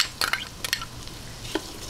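Garlic sautés in butter in a pan, with a steady close sizzle broken by several quick stirring scrapes and clinks early on and one more later, no speech.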